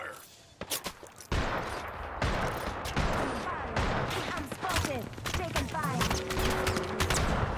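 Rapid bursts of gunfire crack back and forth in an Apex Legends firefight, loud and close, with in-game voice lines and brief chirping tones woven through the shooting.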